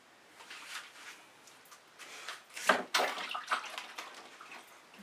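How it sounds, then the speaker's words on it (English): Hands being rinsed under a running tap, a soft splashing water stream that swells and shifts midway as the hands move through it, fairly faint and close. "A moment to rinse off my hands"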